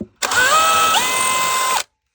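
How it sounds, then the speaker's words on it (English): Power drill boring a hole while mounting a 3D-printed rail for a Plano 3700 storage rack, one loud whining burst of under two seconds with a pitch that dips as the bit bites, then stops abruptly. "So now what I do is I drilled my second hole"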